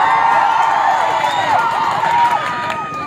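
A dense crowd at an outdoor political campaign rally in Chidambaram roars and cheers continuously, loud and close, with overlapping shouts and no distinct voice.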